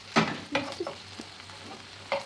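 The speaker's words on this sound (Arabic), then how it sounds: "وانا كنحرك المايزينا والحليب" Cornstarch and milk stirred in a pot with a spoon, making a few soft, close scraping and sloshing strokes at irregular intervals over a quiet background, no talking.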